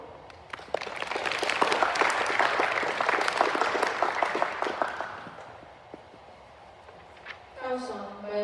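A poetry recitation audience breaks into applause with sharp, distinct claps that build into steady clapping and fade by about six seconds, then a voice starts speaking near the end.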